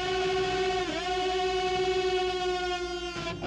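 Electric guitar playing a unison bend while a whammy bar pushes the pitch further up: one sustained, moderately quiet bent note that wavers and slides, with a slight shift near the end.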